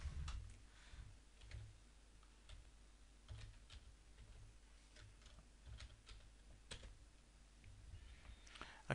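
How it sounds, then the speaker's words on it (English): Quiet, intermittent typing on a computer keyboard while entering data into a database form, with scattered soft key clicks over a faint steady hum. "I'll start typing in data now"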